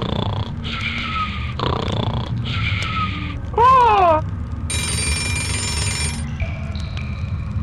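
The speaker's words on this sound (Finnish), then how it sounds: "Sängyn alla makasi kuorsaava, karvainen hirviö." A cartoonish snoring sound effect for a hairy monster in a Moomin story comes as separate breathy rumbles. A whistling slide and a bright bell-like ring, as from a telephone or alarm clock, cut in.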